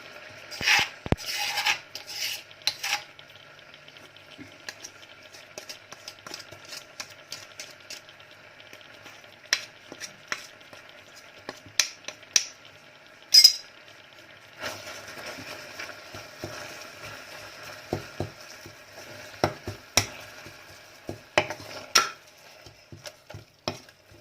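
Curry paste being stir-fried in boiling coconut milk for a mushroom and pickled bamboo shoot curry, heard as a close series of scraping, rasping spatula strokes with a soft sizzle underneath, steady and moderately loud with no talking.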